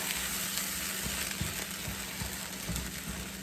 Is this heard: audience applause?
no